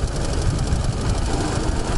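A Dnepr motorcycle engine running steadily while riding through a city, a dense continuous low rumble with even loudness throughout, close and loud.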